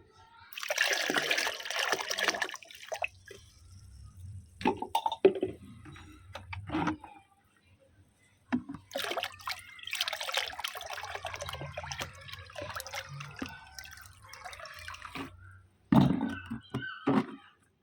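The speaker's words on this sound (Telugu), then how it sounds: "ఇప్పుడు ఈ వాటర్ అన్నిటినీ కూడా నేను నార్మల్ వాటర్లో కలిపేసేసుకుంటాను" Water is poured in several separate bursts, splashing and trickling into a container of plain water mixed with kitchen waste, with quiet gaps and occasional dull knocks between pours.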